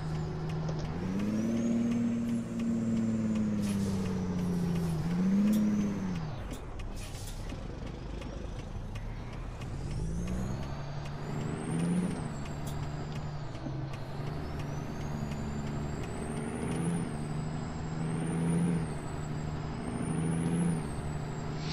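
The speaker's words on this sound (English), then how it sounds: "Better lay on the trailer brake here." Air brake on a truck's trailer in American Truck Simulator, a steady engine drone with a hissing release, the engine note dipping and rising as the rig slows and pulls away, loud and close with no talk.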